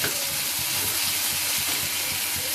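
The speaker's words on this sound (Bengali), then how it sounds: "কন্টিনিউয়াসলি এরকম করে নাড়াচাড়া করতে করতে আলুটা সিদ্ধ হয়ে যাবে" Potatoes sizzle steadily as they stir-fry over medium heat in a pan, a continuous close hiss of frying with soft stirring scrapes mixed in, no talk.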